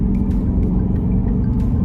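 Aston Martin DBX 707 engine and exhaust while driving in Sport Plus mode, a steady loud low rumble with a raspy edge, continuous and close, no talking.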